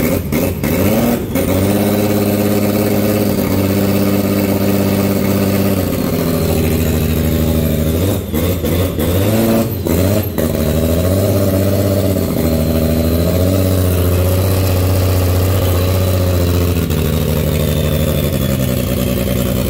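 A Formula D drift car engine runs loud and close throughout after sitting for seven years, a rough, throbbing idle with several blips of revving that rise and settle back.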